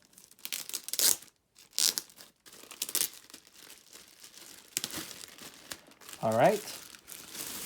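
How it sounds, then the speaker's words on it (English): A DJI-branded plastic bag holding a small DJI Mavic Pro camera bag is torn and crinkled open in several short bursts, with brief talk in between. "So it's in this plastic bag. It's branded as DJi, as you guys can see. So let's open it up."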